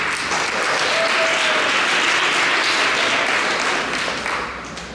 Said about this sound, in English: I think we need a big round of applause for this.